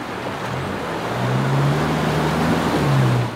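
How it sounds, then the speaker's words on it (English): 4WD vehicles cross a muddy creek in Barrington Tops National Park. A close, steady engine hum rises in pitch and volume as one pushes through, over a broad rushing wash. "Nice little creek crossing before we get back to camp, just to wash some of the mud off underneath these vehicles"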